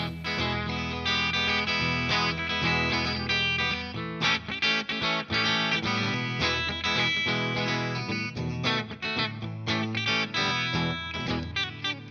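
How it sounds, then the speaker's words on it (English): A Harley Benton RX10 electric guitar with high-gain humbucker pickups plays a clean tone through an amp: strummed chords and picked notes ring out in a continuous, lively phrase with no talking. "So, here's my clean tone."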